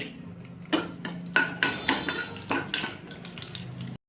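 Tempering seeds and a dried red chili hit hot oil in a kadai, giving a run of sharp, close crackles and pops that come in quick bursts.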